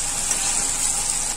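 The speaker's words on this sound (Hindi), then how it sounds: "हम हाई फ्लेम पे स्लो करेंगे और इसे थोड़ा भुनेंगे" Potatoes sizzling in a pan over a high flame, a steady, loud hiss of frying oil that holds even and unbroken throughout, with no voices.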